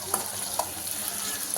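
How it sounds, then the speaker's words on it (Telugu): A pan of chukka kura pachadi (sorrel leaf chutney) stirred in hot oil, giving a steady sizzle with a few soft scrapes of the spoon, close and moderately quiet. "మళ్ళీ ఒకసారి ఇట్లా కలుపుదాం."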